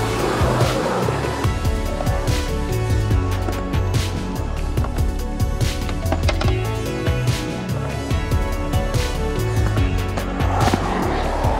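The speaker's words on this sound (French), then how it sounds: "Au début je vais aller m'échauffer en skate un peu." Skateboard wheels roll continuously over concrete at an outdoor skatepark, with repeated clacks and rattles against a steady rumble.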